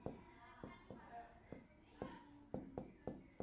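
Chalk or marker tapping and scraping on a classroom board during a data interpretation lecture, a series of sharp strokes at an uneven rhythm, close and fairly faint, with a low voice murmuring in between.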